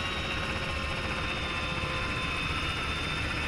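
A Chinook helicopter in a video game gives a continuous, steady rotor thrum and engine whine that stays level throughout.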